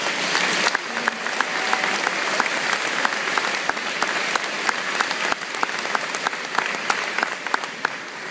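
An audience at a high school graduation ceremony gives a sustained round of applause, dense steady clapping with sharp individual claps standing out, loud and continuous throughout without speech.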